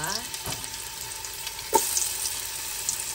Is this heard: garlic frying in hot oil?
yes